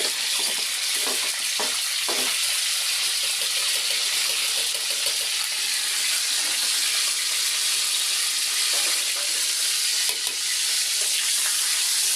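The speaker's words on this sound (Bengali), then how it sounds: "তো এই জন্য আমি চুকড়াটা আগে ভেজে তুলে রাখবো" Chukra vegetable pieces fry in a pan with a loud, steady sizzle that runs unbroken throughout, joined now and then by a few faint stirring knocks.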